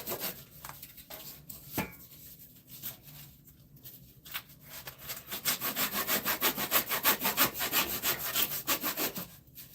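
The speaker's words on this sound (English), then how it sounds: "that's the only problem with cutting stuff on a miter saw" Wood is being cut on a miter saw, with a few scattered knocks and rasps at first, then a fast, evenly repeated rasping cut that grows louder and close by toward the end.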